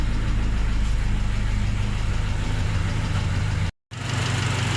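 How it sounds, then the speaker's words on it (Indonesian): A 1987 Mazda Elite engine idles smoothly and steadily, a close, even mid-pitched hum that cuts out briefly near the end before resuming; no speech. "Kemudian ini kondisi mesin pas nyala ya Bolo ya. Mesinnya halus banget."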